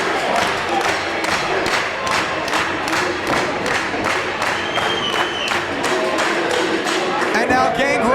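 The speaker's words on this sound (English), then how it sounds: "The crowd wants the Impaler." A wrestling crowd at an indoor Bash at the Brew show in Hialeah, Florida, cheers and chants for the Impaler in a steady rhythmic clap-along, with a commentator talking over the noise.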